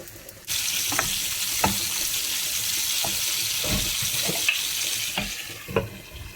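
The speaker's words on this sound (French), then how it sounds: "Dans la même poêle, je vais mettre les tranches du colin d'Alaska." Alaska pollock slices hit hot olive oil in a pan and set off a steady, close sizzle, with occasional soft clicks and taps from the pan and utensil over the constant frying hiss.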